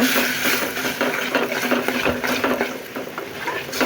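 Prawns being sautéed with onion, salt and chilli powder in a pan, giving a steady close sizzle broken by repeated scraping and stirring strokes of a spoon against the pan, with no talking.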